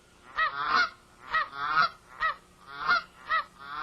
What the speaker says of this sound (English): These are dusky geese.